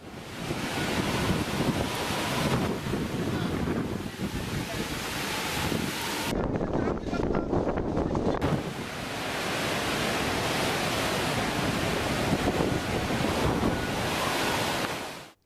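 Loud, steady roar of cyclone-driven rough surf and gusting wind on the Tamil Nadu coast filling the whole stretch, with a brief shift in texture midway before the crashing wash resumes.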